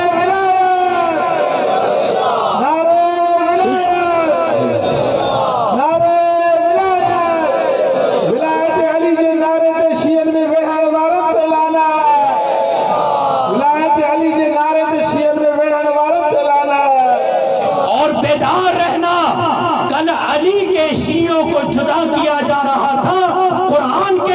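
At a Muharram majlis gathering in an imambargah in Hyderabad, a man calls out a religious slogan and a large crowd roars back in unison. The call and the massed response alternate loudly several times.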